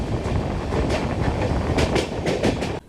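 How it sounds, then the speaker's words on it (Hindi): A Mumbai–Delhi Yuva AC Superfast Express pulls out of Bandra Terminus, its wheels beating out a steady clickety-clack over a loud rolling rumble that cuts off abruptly at the end. "फाइनली हमारा डिपार्चर मुंबई के बांद्रा टर्मिनस से हो चुका है, और एक बढ़िया सी जर्नी स्टार्ट हो चुकी है"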